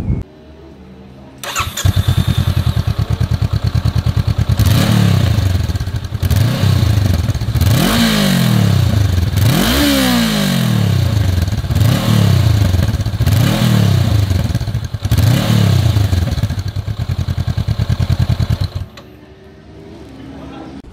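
A 2019 Honda CBR500R motorcycle engine starts and revs repeatedly through its twin-outlet exhaust, each loud rise and fall of throttle close up, then cuts off.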